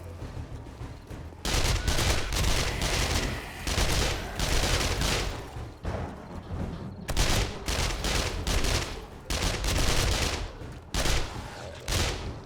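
Sustained 9mm gunfire in 7 Days to Die, loud rapid bursts of automatic shots with brief pauses between strings, dense and close, no talking.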